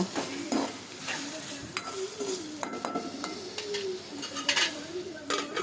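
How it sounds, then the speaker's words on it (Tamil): A spoon stirs salted tomato egg rice in a pan. It makes a scraping, shuffling sound over a light sizzle, close by, with faint background noise. "உப்பு போட்டுட்டு நல்லா கிளறி விட்டுக்கோங்க."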